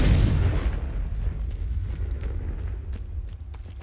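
A Confringo blasting spell detonates in Hogwarts Legacy, a loud booming explosion up front that rolls into a long rumbling, crackling decay with scattered small pops, no speech.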